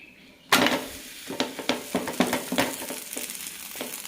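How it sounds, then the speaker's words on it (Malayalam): Ragi adai laid onto a hot dosa pan bursts into a sudden loud sizzle, which continues steadily with a few sharp scraping taps from a utensil. "നല്ല ചൂടായ ദോശത്തവട മീതെ ഇടാം."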